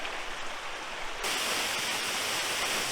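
A stream flows on a hike to waterfalls in northern Argentina, a steady broadband rush of water that grows noticeably louder and brighter partway through, close by and continuous, with no voices.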